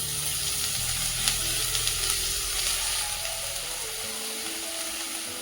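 Washed green chickpea leaves hit a hot pan with a steady, close sizzle that runs the whole time, with a few soft clatters early on and no talking.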